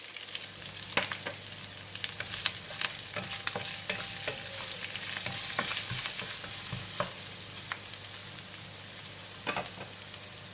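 Onions and curry leaves fry in a pan with a steady, close sizzle, broken by sharp scraping stir strokes throughout; no talking.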